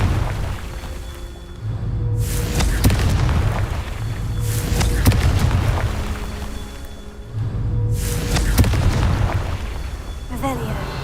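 Confringo fire spell explosions in the Hogwarts Legacy video game, three heavy booming blasts spaced a few seconds apart, each with a loud rumbling tail, over continuous game background sound.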